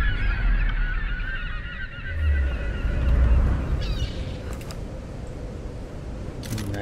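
Seagulls calling in the Tomb Raider video game, several honking cries repeating close by over a steady background of game ambience and wind, with no talk.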